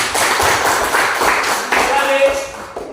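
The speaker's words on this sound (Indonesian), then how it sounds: "Oke, tepuk tangan dulu lagi." A classroom of students claps for a group presentation, loud and close, a brisk burst of many hands with voices mixed in.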